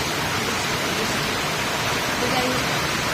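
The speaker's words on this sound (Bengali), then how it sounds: "বিশাল জোর বৃষ্টি হচ্ছে পুরো অন্ধকার করে বৃষ্টিটা হচ্ছে" Heavy rain pours down hard under a dark sky, making a dense, steady roar that stays even and continuous throughout.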